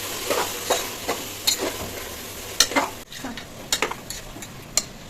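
Yogurt is stirred into mutton biryani masala in a pan, with soft sizzling underneath and a series of irregular scraping, clinking ladle strokes, close by and moderately loud.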